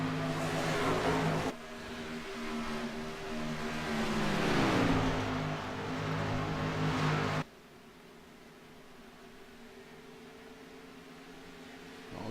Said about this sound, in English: All these trucks back here just scrambling everywhere.